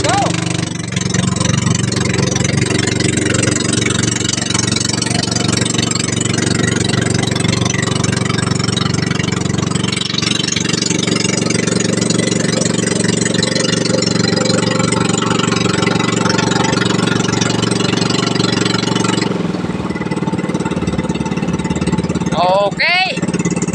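A fishing boat's motor runs loud and steady with a droning, buzzing engine tone that holds throughout and shifts slightly near the end.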